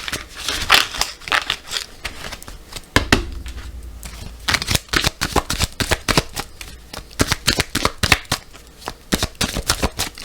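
A deck of tarot cards is shuffled and cut by hand, with rapid riffling bursts of crisp card flicks close up, a short pause, then more quick papery snaps and taps in an uneven rhythm.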